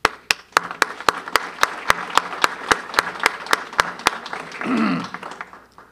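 Families in a graduation audience are applauded with sharp, evenly spaced claps close by, a steady beat over a softer spread of clapping, ending with a short vocal sound as the applause fades.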